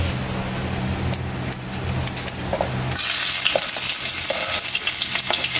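Ginger frying in a pan gives a close, steady sizzle that jumps louder and brighter partway through as it is stirred, with no talk.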